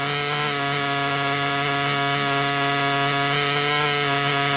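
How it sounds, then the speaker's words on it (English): A power grinder runs continuously at a steady, loud, close whine while grinding sandstone away from a fossil rock slab. "So to speed things up with the grinder, I'm simply just going to use the side of the"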